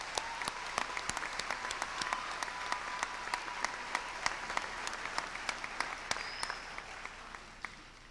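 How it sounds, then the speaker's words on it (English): Graduation audience at a learning center applauds the staff, a steady spread of clapping hands with sharper individual claps standing out, moderately distant in a large hall and slowly tapering off. "With your applause, would you please thank our staff?"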